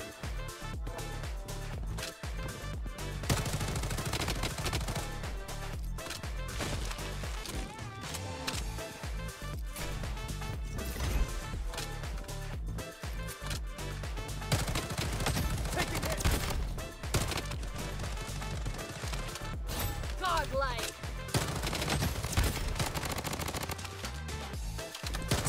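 Bursts of MP5 submachine gun fire in the Bloodstrike shooter game, with rapid crackling volleys repeating steadily across the whole stretch, loud and close, separated by brief gaps, with no talking.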